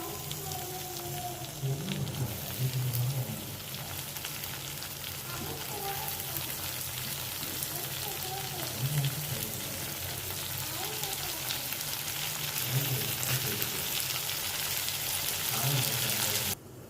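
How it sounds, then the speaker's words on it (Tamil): Cut tomatoes sauté in a pan, a continuous dense sizzle like light rain lasting throughout, with faint voices or background sounds murmuring underneath. "தக்காளி வெந்துட்டுருக்கேங்க இங்கே அப்படியே வேகட்டும் நல்லா வதங்கி எடுத்துங்க"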